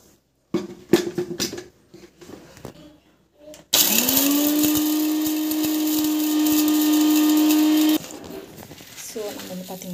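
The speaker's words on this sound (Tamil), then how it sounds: "மிக்சியில் வந்து போட்டுக்கலாம்." A kitchen mixer grinder whirring on sautéed ingredients for a weight-loss powder, a loud steady motor whine running about four seconds after handling clatter, then stopping as a voice speaks.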